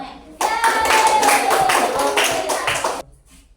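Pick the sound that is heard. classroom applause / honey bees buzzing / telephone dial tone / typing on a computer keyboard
classroom applause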